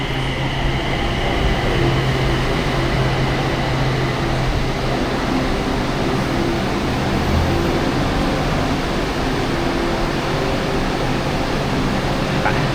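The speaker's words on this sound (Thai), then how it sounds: "โอเครถไฟมาแล้วนะครับ" Steady loud rumble of a train arriving at a station in Bang Saen, Thailand, a continuous dense roar with low hum and faint squeal tones, no talk.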